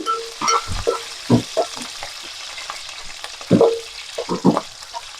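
Onions and green chillies fry in a pan, with crackling sizzle broken up by several sharp stirring scrapes and clanks, heard close with no talking.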